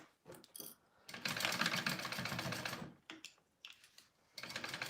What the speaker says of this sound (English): sew that on at a 1/4 inch seam allowance